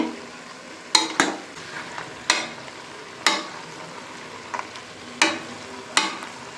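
Mutton cooking in hot oil in a pressure cooker for mutton sambar, a low sizzle under a series of about eight sharp ladle scrapes and clanks against the metal pot, no talking.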